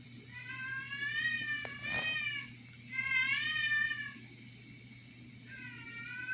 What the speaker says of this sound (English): It's my daughter's cat named Dumpling.